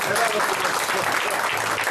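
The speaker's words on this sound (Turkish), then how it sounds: "Bir alkış yapın bunlara." A crowd at a public gathering in Fethiye breaks into steady, dense applause, a continuous roar of many hands clapping with voices mixed in underneath.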